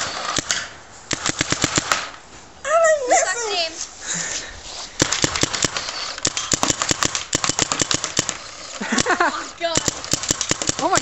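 A Spider VS3 paintball gun fires in a backyard, with sharp pops in quick bursts and runs of rapid shots, heard close amid excited shouting and talk from several people.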